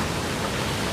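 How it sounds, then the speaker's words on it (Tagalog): Strong typhoon wind roaring in a forest, a dense, steady broadband rush with no breaks, loud and close throughout. "Sa itaas sobrang lakas ng ugong ng hangin"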